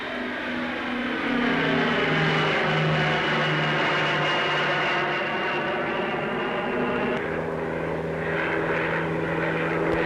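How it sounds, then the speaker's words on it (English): A Handley Page Marathon 2 turboprop feeder airliner flies past at an air show, its loud steady propeller drone carrying harmonic whine throughout and shifting in pitch as it passes. "Still more turboprops, this time in Handley Page Marathon 2, a feeder aircraft."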